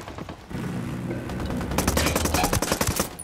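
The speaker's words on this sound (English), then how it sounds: "I'm opening fire on these shitheads" Rapid gunfire in the tactical shooter Ghost Recon Wildlands, starting as sparse shots and building into dense, loud automatic bursts with sharp repeated cracks toward the end, no talking.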